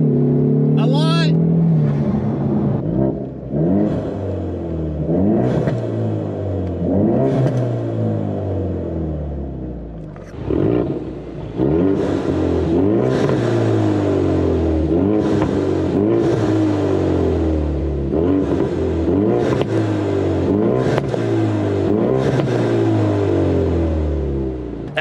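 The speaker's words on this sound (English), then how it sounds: "As you can hear, the car is running great." A turbocharged car running on fuel dosed with Lucas fuel treatment revs repeatedly while driving, its engine rising and falling in pitch, loud and close, with a voice talking over it.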